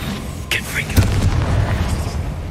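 A Confringo blasting curse explodes in Hogwarts Legacy on PS5, a loud booming blast with a quick second burst, then a rolling rumble that carries through the rest of the moment.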